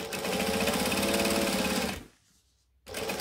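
A sewing machine top stitches a bag, a fast even mechanical whir with rapid needle clatter running for about two seconds, stopping briefly, then starting up again close by.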